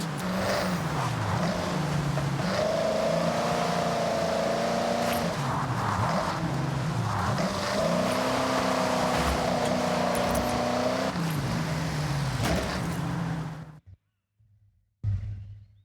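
A car engine in the Forza Horizon racing game revs hard and climbs through several gear shifts, with a brief tire squeal, before cutting off abruptly near the end.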